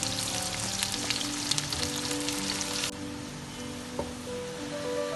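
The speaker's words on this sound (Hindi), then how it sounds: "अब इसमें मैं प्याज ब्राउन करने रखूँगी।" Steady, close sizzling of onions frying in a pan, a dense crackle that drops noticeably quieter partway through, with faint tonal hum underneath.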